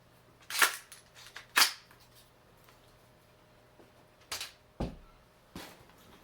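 Winchester Model 1894 lever-action rifle chambered in 30-30 working its lever, with a few sharp metallic clacks and clicks in irregular sequence as a round is ejected, close and fairly crisp with no talking.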